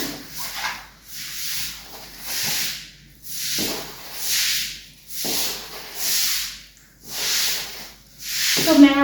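Wash water is pushed across a house floor during a home wash, rhythmic scraping sweeps repeating about every second and a half in regular strokes, close and moderately loud with a short clatter at the end.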